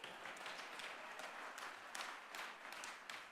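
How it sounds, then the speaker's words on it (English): Audience applause at a banquet, a soft, steady wash of many hands clapping that holds evenly for a few seconds, sounding somewhat distant. "Thank you for clapping."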